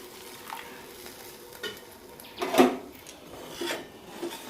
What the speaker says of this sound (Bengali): এরপর আমি এটাই জল ঢেলে দেবো।